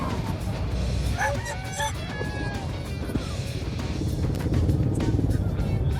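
Chickens cluck and squawk at a busy outdoor pet market, scattered calls rising over a steady crowd din while someone talks nearby.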